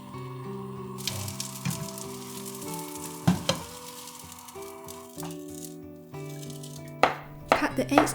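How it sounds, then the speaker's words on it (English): A knife cutting pan-fried egg into strips, a series of sharp chopping taps on a board, uneven in rhythm and clustering toward the end, close and distinct over quiet background music. "Cut the eggs into strips and set aside."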